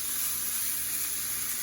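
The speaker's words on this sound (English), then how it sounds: "I'm gonna put the steaks themselves directly on my nonstick frying pan" Steaks sizzle steadily in a nonstick frying pan, a continuous bright hiss of searing meat that stays close and even, with no talk.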